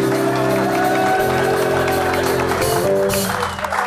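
A studio audience claps loudly and continuously for several seconds, a dense wash of applause with a few scattered cheers, under a musical tone.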